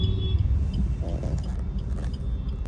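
Steady rumble of cars on a highway just outside, heard from the roadside amid traffic with no parking, a continuous low drone with faint passing swells and no talking.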